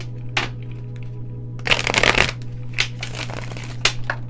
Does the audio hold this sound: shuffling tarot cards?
yes